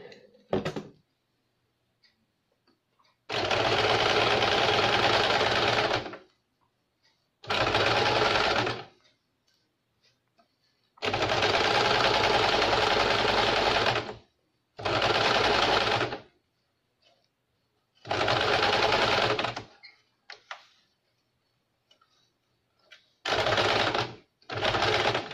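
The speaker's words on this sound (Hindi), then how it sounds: "अब हम इसको साइड से इस तरह से सिल देंगे।" A sewing machine stitching the back neck of a blouse at home runs in six loud, close bursts of rapid whirring, each several seconds long, separated by quiet pauses, with no talk.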